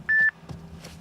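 A mobile phone keypad gives one short, clear electronic beep inside a moving car, followed by soft clicks and a low road and engine rumble.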